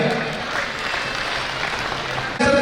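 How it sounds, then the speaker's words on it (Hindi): An audience at a community gathering in Kutch applauds a karate silver medal winner, steady clapping from many hands that carries through before a voice cuts in at the very end. "एक बार तालियां"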